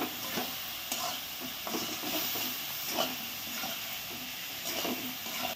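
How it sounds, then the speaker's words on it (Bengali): Spices with a little water being sautéed for homemade chicken curry, a steady close sizzle and hiss with rhythmic stirring scrapes every second or so, no voices. "মশলা এখন ভালো করে কষিয়ে নেব।"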